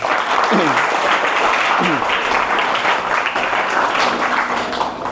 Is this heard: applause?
yes